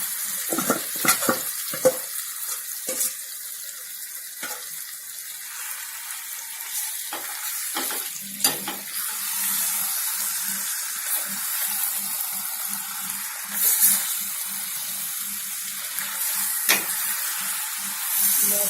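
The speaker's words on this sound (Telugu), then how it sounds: "ఇలా చక్కగా ఆ ప్యూరీ ఉల్లిపాయలు అన్నీ చికెన్కి పట్టేలాగా చక్కగా కలుపుకోవాలి." Onion puree being stirred into chicken gravy in a pan, with steady frying sizzle and scraping stirs throughout, close and moderately loud, no voices.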